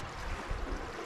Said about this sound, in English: You can hear the river here.